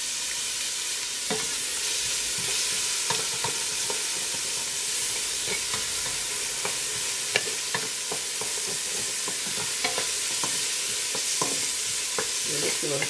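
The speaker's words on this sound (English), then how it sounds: "I'm just going to saute that for a minute" Diced onion and grated garlic sauteing in a hot pan, a steady bright sizzle throughout with regular scraping taps of a stirring utensil, close and fairly loud with no voices.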